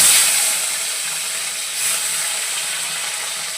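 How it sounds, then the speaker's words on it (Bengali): Flat beans (shim) frying in oil in a home kitchen, producing a soft, steady hissing sizzle that starts a little louder and then settles evenly, with no talking. "দুটো সিম একটু আলাদা করে ভাজা করি ডালের পাতে"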